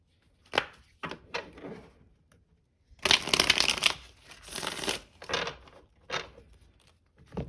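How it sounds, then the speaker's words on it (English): Tarot cards being shuffled in several bursts, crisp riffling and tapping with short pauses between, close up and fairly quiet. "Okay, we'll do one final shuffle."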